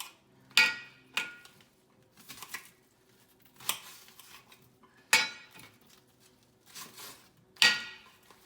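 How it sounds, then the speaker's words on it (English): A knife cuts onions and garlic into small pieces on a board, making a handful of sharp, close chops spaced irregularly over near silence, with no talking. "so I'm just cutting little small pieces"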